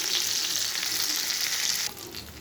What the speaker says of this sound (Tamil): நம்மளுடைய மீன் வறுவல் ரெடிங்க